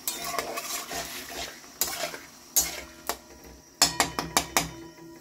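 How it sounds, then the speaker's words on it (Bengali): A utensil stirring soy sauce into a chicken dish in a pan, with repeated sharp metallic clinks and scrapes against the pan, bunching into a quick cluster near the end over a faint sizzle, close and with no speech. "এটা ভালো করে একটু মিক্স করছি"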